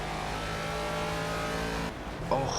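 A Caterham Seven engine in Project CARS on the Nordschleife holds a loud, steady high-revving drone, then dips briefly as if shifting gear before surging back.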